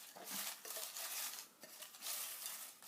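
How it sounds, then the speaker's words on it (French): Folded question papers rustle and scrape as they are mixed in a small box, a continuous close dry shuffling with a few brief swells and dips over about three seconds. "voici ma petite boîte où je vais mélanger"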